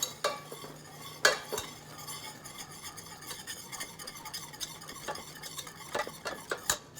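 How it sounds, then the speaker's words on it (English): A whisk beats boiling cream into a pot of keto caramel sauce, making a steady close rhythm of fast metallic clinks and scrapes over a soft bubbling hiss. "You need to add all the cream and then let it boil 1 minute while you continue to whisk"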